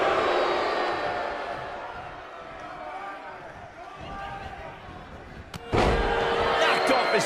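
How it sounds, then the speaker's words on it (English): A wrestling takedown slam in the WWE 2K19 video game lands as a sudden loud impact near the end, cutting through steady game crowd noise and commentary. "Knocked off his feet. Now that's a takedown."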